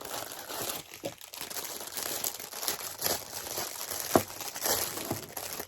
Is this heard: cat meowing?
no